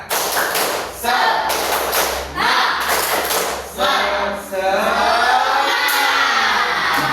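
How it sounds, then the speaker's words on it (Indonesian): Schoolchildren in a primary-school classroom doing rhythmic spirit clapping, loud bursts of patterned claps and thumps with children's shouting, the class chanting together in close, energetic sections. "Tepuk semangat dulu ya."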